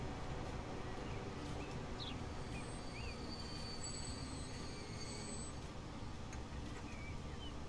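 Fast passenger train rolling along rails in the Transport Fever 2 railway simulation game, a steady continuous rumble with faint wheel squeals and high metallic whines drifting over it, constant and fairly loud throughout.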